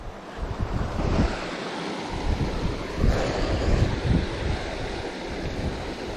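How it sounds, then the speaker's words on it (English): Clear water rushes steadily along a mountain stream in Mount Field, a broad, continuous outdoor roar with gentle surges, loud and close, with no voices over it. "Beautiful clear running water."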